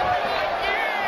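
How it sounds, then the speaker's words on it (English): Arena crowd roaring in WWE 2K25 during an extreme match, a dense, steady wash of cheering that holds loud and unbroken throughout with no clear pauses. "This capacity crowd is sending him love, and he's sending it right back."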